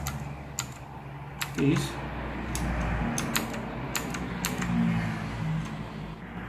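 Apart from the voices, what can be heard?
keys being pressed on a light-up computer keyboard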